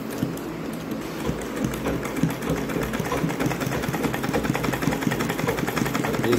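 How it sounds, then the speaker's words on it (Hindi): A tailor's sewing machine stitches the centre seam of a six-panel petticoat, a close, steady whirring with fast rhythmic needle ticks that runs without pause. "अब इसके को सिलाई करते हैं, बस सेंटर में"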